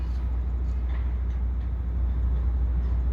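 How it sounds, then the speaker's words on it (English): A GM F59PHI or F59PH locomotive pulls an EXO commuter train near Parc Station by the Jean Talon overpass. It gives a steady, low diesel rumble from a moderate distance, with faint rail noise above and no talk. "So I can hear the locomotive."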